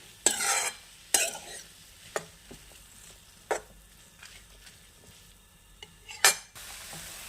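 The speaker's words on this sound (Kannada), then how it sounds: "ಇದನ್ನು ಮೀಡಿಯಮ್ ಫ್ಲೇಮಲ್ಲಿ ಚೆನ್ನಾಗಿ ಹುರ್ಕೊಳ್ಳಿ" Tomato masala fried in oil over a medium flame for cauliflower masala gravy: a soft background sizzle broken by several sharp scraping stirs of a spatula against the pan, fairly close and with no talking.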